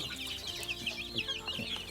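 Black chickens cluck on a small Thai farm, several birds close by giving busy, overlapping clucks and chirps throughout, with no talk over them.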